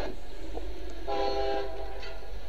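A short, fast train passing a level crossing, with a steady rumble of wheels on rails and a brief horn tone, heard from close by with no talking.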